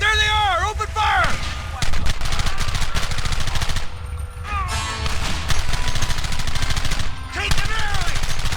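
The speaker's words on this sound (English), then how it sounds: "There they are! Open fire!" Rapid bursts of gunfire from a Red Dead Redemption shootout, dense machine-gun-like volleys and single cracks piling up continuously, with shouted voices breaking in over the shooting.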